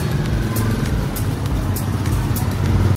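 Busy town traffic in El Nido, with continuous close motorcycle and car engines passing and droning, loud and steady throughout.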